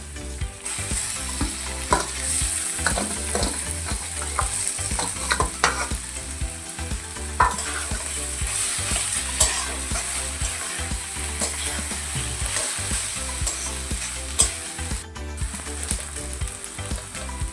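Cauliflower fries with onion and ginger in a hot pan for a spicy paratha filling, sizzling continuously while a utensil scrapes and taps the pan in uneven strokes, close and alone.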